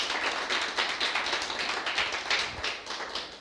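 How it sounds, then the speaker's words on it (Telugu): A church congregation claps for the worship team at a Sunday service, a dense, continuous patter of many hands, steady and moderately loud with a faint room echo. "వర్షిప్ టీం కోసం క్లాప్స్ కొట్టచ్చా?"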